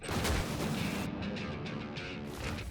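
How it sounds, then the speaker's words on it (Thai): Rumbling explosions and bursts of gunfire in PUBG on the Sanhok map roll together in a dense, loud barrage with a few sharper pops. "เตรียมตัวระเบิดภูเขาเผากระท่อมในแซนฮอก"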